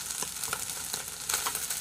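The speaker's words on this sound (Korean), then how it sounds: "팝콘 튀기듯이 톡톡톡톡 하면서 밑에 부분이 완전히 수분기가 날아가면서 기름에 밥이 볶아지게 되는 거죠" Fried rice crackles and sizzles in oil in a pan, a continuous bright hiss dotted with quick popping ticks like popcorn, close and steady with no voices.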